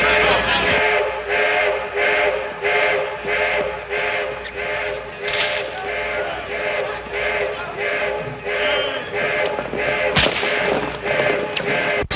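Gunfire and an explosion from a 1931 western film: a dense, rhythmic barrage of loud repeated blasts, with one sharper crack near the end, rough and continuous on an old soundtrack.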